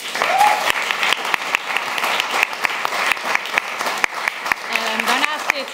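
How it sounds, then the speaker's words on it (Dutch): An audience at a public discussion event gives lively, continuous applause with sharp individual claps, while voices are heard speaking over the clapping, especially near the end. "Applaus daarvoor."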